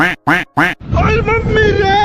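Three sharp cartoonish quacks in quick succession, followed by a longer, warbling nasal duck call as a cartoon duck blows into a pipe, loud and close.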